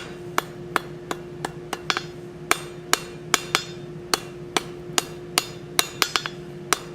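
A blacksmith hammers hot metal near the sharp shoulder edges of an anvil while forging a plant hanger, striking about twenty sharp, ringing blows in a fairly steady rhythm with a sustained metallic ring between them.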